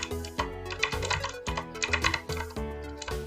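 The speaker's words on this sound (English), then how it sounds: "typing." Fingers type on a computer keyboard during a Java programming tutorial, producing a quick, uneven run of close, crisp key clicks and clacks with small pauses between bursts and no talk.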